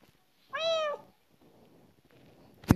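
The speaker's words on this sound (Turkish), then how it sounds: "Bu arada kedi yanında." A cat meows once inside the video game Minecraft, a clear close mew followed by quiet background game sounds and a sharp click at the end.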